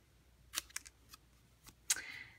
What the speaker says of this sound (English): I'm just snipping in the middle and then I'm meeting it with my scissors